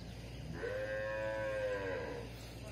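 A cow in a farm corral, separated from her calf, gives one long, loud moo from close by. Steady outdoor background noise sits under the call, and nobody speaks.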